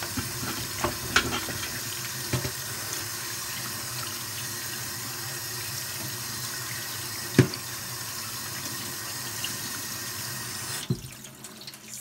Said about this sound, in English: And rinse them in cold water.